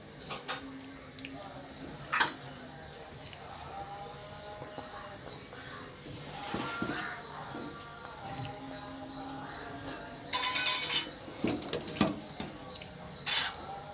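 Fried pabda fish pieces dropped one by one into simmering gravy in a pot, giving soft splashes, a few sharp clinks of a utensil against the pot and scattered sizzles over a quiet kitchen background.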